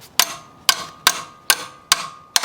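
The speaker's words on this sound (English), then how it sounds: "a good old wrench and a hammer and a good knock will get that loose." A hammer strikes a wrench to break a bolt loose while fitting a power steering pump on a 2009 Honda Odyssey; six sharp metallic knocks ring out at a steady rhythm, close and loud, with short ringing decay.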